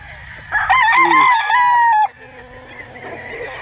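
A golden boy gamefowl rooster crows once on a farm, a loud close cock-a-doodle-doo lasting about a second and a half, with quiet background noise before and after.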